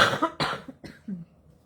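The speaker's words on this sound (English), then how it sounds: "have to excuse my coughing" Several short, sharp coughs in quick succession, close and fairly loud, trailing off into a softer throaty cough.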